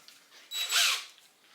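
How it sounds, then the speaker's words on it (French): A brief burst from a power drill or screwdriver, a short whirring spin that rises and fades in under a second against a quiet room. "Les perceuses, visseuses."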